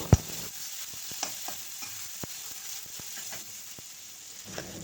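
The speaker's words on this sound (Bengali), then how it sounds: "এবার সেই কুচানো পেঁয়াজটা তেলের মধ্যে দিয়ে দিলাম পেঁয়াজটাকে ভালো করে ভেজে নিতে হবে" Chopped onion frying in hot oil gives a constant soft sizzle, broken by a sharp utensil knock at the start and scattered light scrapes and taps from stirring, close and fairly quiet.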